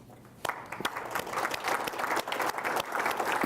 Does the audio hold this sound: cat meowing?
no